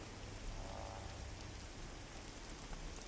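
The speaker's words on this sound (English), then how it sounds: "It's not the worst rain sound effect" Rain sound effect in the AtmosFar floating island survival game: a faint, steady hiss of rainfall with a slightly static texture, continuous and unaccompanied by speech.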